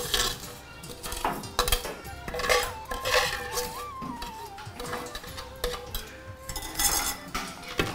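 Roasted vermicelli being shifted from a pan into a bowl while making Onam payasam in a Thrissur home kitchen, with repeated metal clinks and scrapes of utensils over a continuous background of household noise and music.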